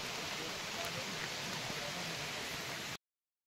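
Light monsoon drizzle falls at Mangad fort in the Sahyadri hills, a faint, even hiss of rain that runs steadily and then cuts off abruptly.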